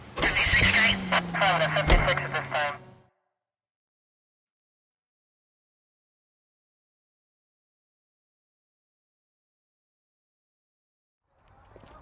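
A car engine from the L.A. Noire video game starts and runs loudly and close for about three seconds, then cuts to silence, with a faint return of sound at the very end.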